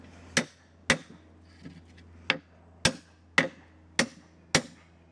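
Sharp metallic blows from a blacksmithing hammer driving tight metal rings onto a wooden beetle mallet, at an uneven pace, seven distinct knocks with brief ringing decay, close and clear against a low steady hum.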